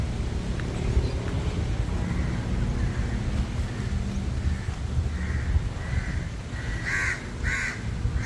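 Crows caw repeatedly at an outdoor hill temple surrounded by nature, their calls spaced irregularly and growing louder toward the end over steady wind and broad background rumble.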